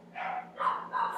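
A dog barks outside, three short muffled woofs in quick succession, moderately distant, with no talk over it.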